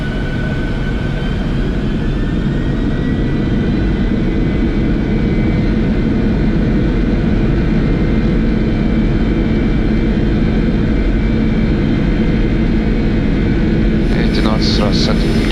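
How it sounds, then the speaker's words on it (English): Boeing 747-400 jet engines heard from the cockpit, a loud steady roar and hum holding continuously while thrust builds for takeoff, with voices talking over it. "Setting takeoff thrust."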